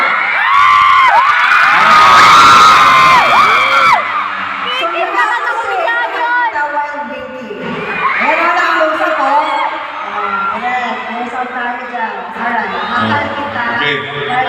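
A fan crowd at a fanmeet screams and cheers, loud high-pitched shrieking that peaks early and then settles into sustained excited chatter and squealing, with voices mixed in.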